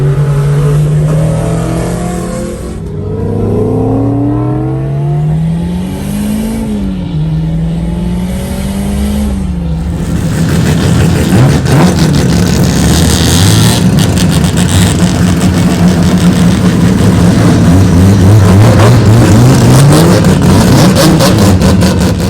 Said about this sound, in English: Now we're going out on track again.